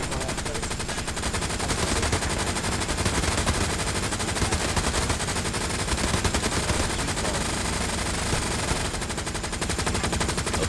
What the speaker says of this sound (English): start shooting that whole machine gun into that trench line in front of us